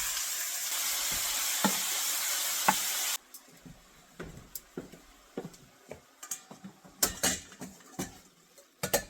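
Meat for a cheesesteak goes into a very hot pan: an initial loud, dense sizzle of hot oil, then quieter crackling with scattered clinks and taps of a utensil against the pan.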